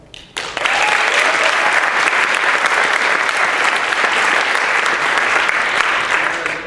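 An audience at a marching band awards event welcomes a guest, Sergeant First Class Riffle, with loud, sustained applause from a large crowd. The clapping starts abruptly and stays dense until the end.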